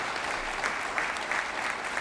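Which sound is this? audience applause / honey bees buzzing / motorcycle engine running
audience applause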